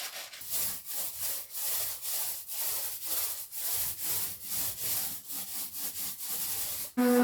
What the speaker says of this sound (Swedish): det är Ali som slipar där bakom.